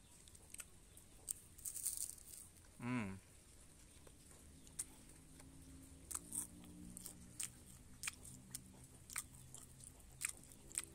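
Someone bites into a crunchy Gery Saluut chocolate wafer and chews it. The crisp crunching comes close and quiet, in irregular bursts, with faint murmured voice sounds between them.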